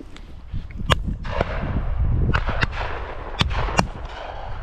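Shotguns fire at ducks on an English shoot: about six sharp, loud reports in quick irregular succession, some closer and some farther off, over outdoor background noise.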